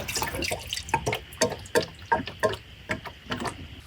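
Liquid poured into an old engine from a 1963 Oldsmobile Dynamic 88 wagon to soak, heard as close, uneven splashing and dripping with a trickling rhythm and no talk.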